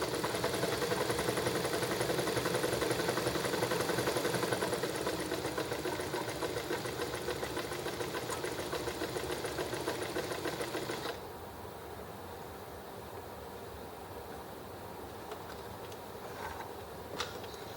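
A sewing machine runs steadily while trying to sew a zigzag stitch, a fast mechanical whirring hum that continues loudly for about eleven seconds before cutting off, leaving quiet background with a few faint clicks.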